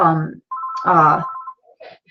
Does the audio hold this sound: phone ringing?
yes